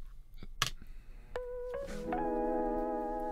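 A short stretch of a track, the original recording with keys: a few scattered clicks and taps, then sustained keyboard chords swelling in and holding, fairly quiet, with no voices.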